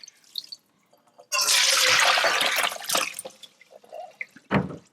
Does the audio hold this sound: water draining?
yes